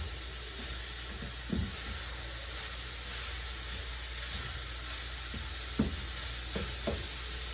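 Ground beef cooks in a pan with a constant, even sizzle, broken by a few sharp scraping knocks from stirring near the start and toward the end.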